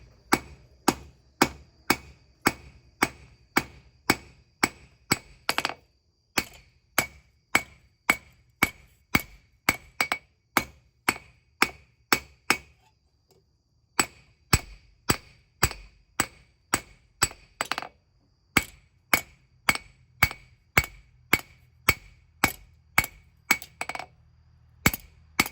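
Hammer blows on a hot knife blade being forged, striking in steady rhythmic runs of sharp metallic clinks with a short pause midway, close and loud.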